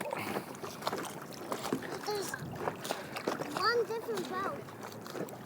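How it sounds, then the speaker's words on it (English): Paddles work a canoe or kayak across a windy lake, with soft splashes and water sloshing close by while people talk throughout and wind rushes in the background. "And it's very windy, so we'll try to paddle as hard as we can to the waterfall."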